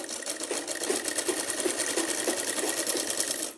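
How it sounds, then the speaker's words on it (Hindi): A sewing machine runs steadily while stitching a salwar, its fast, even needle chatter continuing close and clear for a few seconds before stopping, with no speech. "ये दोनों म्यानी को बराबर करके यहाँ सिलाई लगा लेंगे।"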